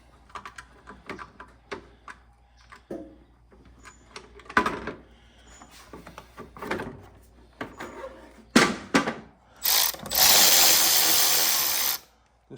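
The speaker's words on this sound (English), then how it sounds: "We're going to start by removing the little decorative cover on top of this engine" Removing the small decorative plastic cover from the engine of a 2008 lawn mower, with scattered close clicks, snaps and scraping handling sounds, then a steady loud rushing burst near the end.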